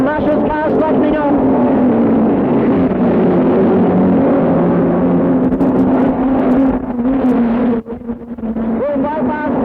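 Midget speedcars racing laps of the Sydney Showground track in a 1965 50-lap event, their engines blending into a loud, steady droning roar that swells and eases slightly as the cars circle, then dips briefly near the end.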